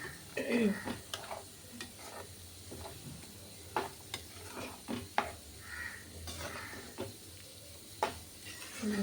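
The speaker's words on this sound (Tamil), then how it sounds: "நல்லா இதை மிக்ஸ் பண்ணி விட்டுக்கிறேன்." Prawn gravy sizzles in a pan while a spoon stirs it, with soft scraping strokes and clinks at irregular intervals over a low steady bubbling hiss, close and fairly quiet.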